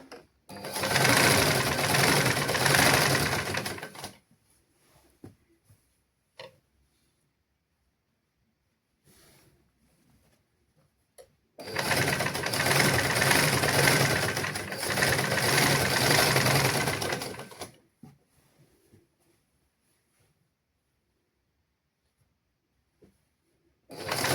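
Sewing machine stitching lungi (sarong) fabric in a basic tailoring class: two separate runs of loud, steady whirring motor and needle, each lasting several seconds, with near silence and faint handling between them.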